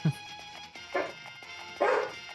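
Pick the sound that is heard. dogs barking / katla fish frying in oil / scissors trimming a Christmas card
dogs barking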